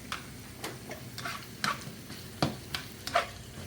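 Shrimp and garlic pre-cooking in a pan for Florida shrimp and rice, with soft sizzling under a series of sharp ticks and clinks as the food is stirred, close and fairly quiet.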